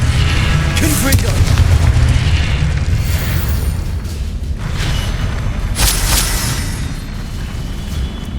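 Confringo spells cast in Hogwarts Legacy gameplay burst into repeated booming explosions, loud and dense, with heavy rumble filling the stretch and a voice speaking over part of it.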